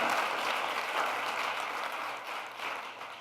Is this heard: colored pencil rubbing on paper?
no